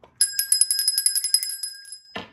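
A bright bell dings rapidly in a quick series of about fifteen clear, close strikes for a subscribe bell icon, fading out near the end.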